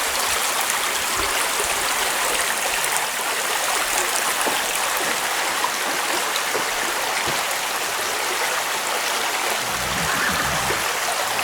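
Fox Creek, a mountain stream beside a campground, rushes past in a constant, close, full wash of flowing water that stays even throughout with no voices.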